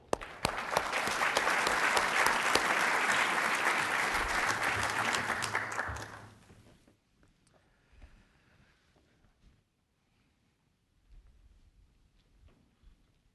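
Audience applause welcoming speaker Randy Lee at a talk on network threat prevention, steady and loud for about six seconds before stopping abruptly, leaving faint room noise and small shuffles.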